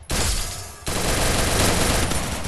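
Loud, dense gunfire from a sniper rifle in the mobile battle game Free Fire roars nonstop and close, with a sharp fresh burst partway through that keeps the racket going.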